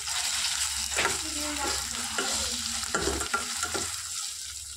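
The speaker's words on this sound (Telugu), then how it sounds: "కొంచెం కరివేపాకు, అల్లం వెల్లుల్లి పేస్ట్ ఒకసారి కలుపుకుందాము." Curry leaves, ginger-garlic paste, cumin and mustard seeds sizzle in hot oil in a frying pan while a spoon stirs, giving a constant close frying hiss broken by several stirring scrapes.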